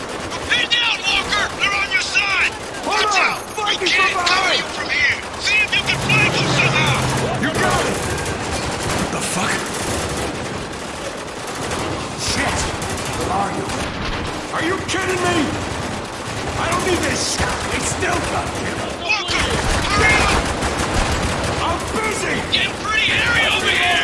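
Heavy gunfire and shotgun blasts in the video game Spec Ops The Line or GTA Online, loud irregular bursts and booms running throughout, with voices talking over the action.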